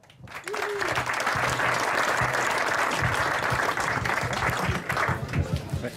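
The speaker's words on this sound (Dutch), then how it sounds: "Ik vraag u een hartelijk applaus voor Marcel van Dijken." A crowd at the opening of a new tennis and padel park applauds warmly for the chairman, steady loud clapping from many people with some voices mixed in.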